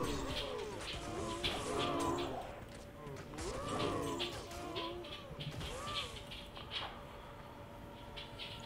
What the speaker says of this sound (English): Oh, a lot of cows. Cows with battle axe.